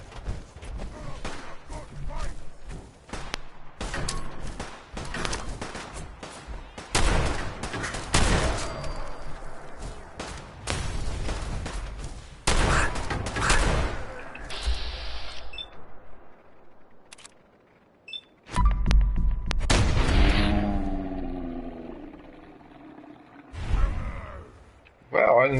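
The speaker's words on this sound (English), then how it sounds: "Where's the shooting coming from?" Gunfire in the video game Fallout 4 crackles as repeated sharp shots and bursts through much of the clip, mixed with game effects and someone talking.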